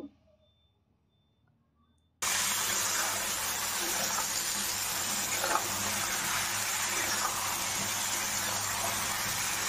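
Chopped bottle gourd goes into a hot pan of sautéed potatoes: after a couple of seconds of near silence, a sudden loud gushing sizzle starts and holds steady to the end.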